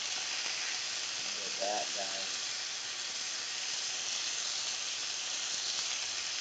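Food searing in a hot pan while macaroni and cheese is being made, giving a steady close hiss and sizzle throughout with a brief murmur of voices near the middle.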